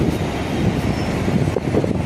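A suburban train runs along the track as a steady, loud rumble with a clattering undertone and wind buffeting the microphone, close by and continuous, with no talking.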